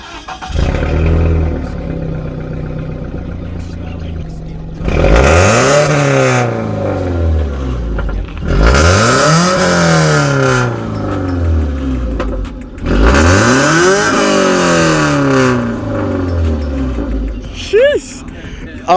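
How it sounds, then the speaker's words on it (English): A Subaru BRZ with a loud aftermarket exhaust revs hard three times on the road, each pull rising and falling in a sweeping engine roar. Quieter idling and cruising sounds fill the gaps between the revs. "I don't know if you guys could hear how wicked, how disgusting the exhaust is"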